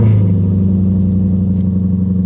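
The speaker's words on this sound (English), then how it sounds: "let's clean the car and give this thing a little cold start." A Lexus IS F V8 with a newly fitted exhaust idles on a cold start, a loud, steady low burble close by with no talking.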